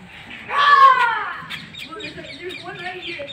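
Harsh cawing bird calls ring out loud near the start, followed by softer calls mixed with a voice talking.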